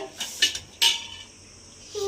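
Pots, pans and a rice cooker being handled for washing in a home kitchen, giving a few sharp metallic clanks near the start and then a quieter stretch, close by with no talk.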